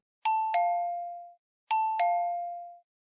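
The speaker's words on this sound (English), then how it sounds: "the doorbell rang." A two-tone ding-dong doorbell chime rings twice, clear and close, each ring fading out before a short silence.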